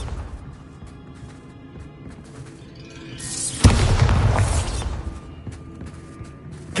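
A Bombarda blasting spell in Hogwarts Legacy detonates with one loud booming crash that rises out of quiet ambience and rolls on as a heavy rumble for a few seconds before settling.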